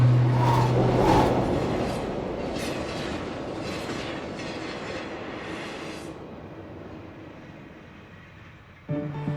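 A London Underground train rumbles along the rails with rhythmic clicking and a brief high squeal, the roar gradually fading as it slows.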